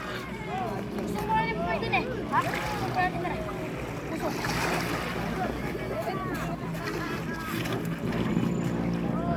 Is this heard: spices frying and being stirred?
no